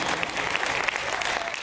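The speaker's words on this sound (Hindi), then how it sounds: "तालियां जरा जोरदार बजा दो साहब" A crowd at a Hindi comic poetry show claps in steady, dense applause, brief and continuous throughout.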